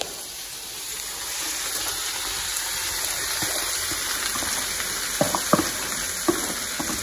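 Ingredients for steak and shrimp in ranchera sauce hiss in a hot pan with a steady, even sizzle throughout, broken near the end by a few soft utensil taps against the pan.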